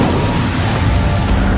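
A fire spell lighting stone pyres in the video game Hogwarts Legacy, a loud, dense roaring whoosh of flame that fills the whole moment without pause.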